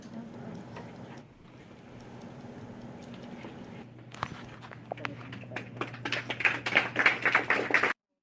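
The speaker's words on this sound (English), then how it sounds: "Even some clapping." At a school board meeting, a low hum and murmur give way to scattered claps that grow denser and louder over the last few seconds before cutting off abruptly.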